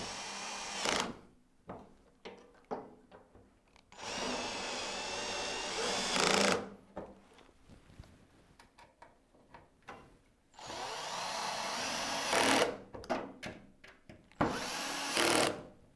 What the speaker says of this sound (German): Die Ablage muss dann natürlich auch noch auf der Rückseite des Tisches festgeschraubt werden.